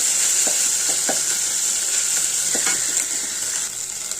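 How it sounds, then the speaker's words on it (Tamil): Onion, ginger and garlic sautéing in a pan, a strong continuous hiss of frying with a few soft stirring knocks, close and alone without talk. "வெங்காயம் கொஞ்சம் வதக்கிட்டு இப்போ நம்ம இஞ்சி பூண்டு கொஞ்சம் போட்டுக்கிறோம்"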